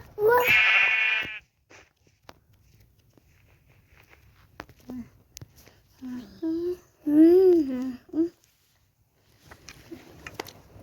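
Sheep in a video game bleat in loud, wavering cries, one long bleat at the start and a cluster of shorter ones later, with sparse clicks and faint footsteps in between.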